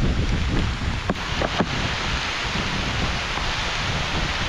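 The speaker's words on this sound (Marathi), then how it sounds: "नांगरता नांगरता पाऊस येतो बघा, पटकन एक सर इली बघा" A rain shower sets in over rice fields during ploughing in the Konkan, a loud, dense, steady hiss of falling rain with a few faint taps, heard close and alone.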